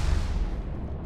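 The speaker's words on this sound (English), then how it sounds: "That was a missile." A missile explodes in the Mass Effect video game: a brief, heavy, low rumbling blast that hits close and loud at the start, then fades quickly over about a second.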